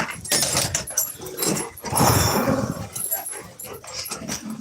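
A dog barking and growling at close range in a home, loud bursts of rough barks and yips mixed with a voice talking over it.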